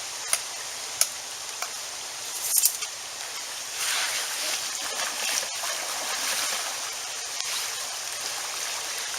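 A shallow stream flowing freely along a straight, cleared section outdoors, giving a steady broadband rush of running water with a few brief splashes and clicks near the start.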